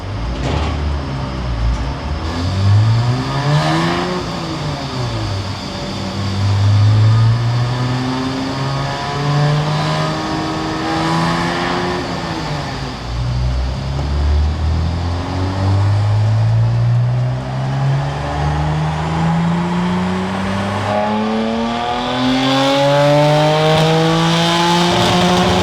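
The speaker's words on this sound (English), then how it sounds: "There was a misfire on the car" A BMW M4 engine revs hard on a dyno with a misfire, its loud, steady roar climbing and falling in pitch through repeated sweeps, sounding close and alone.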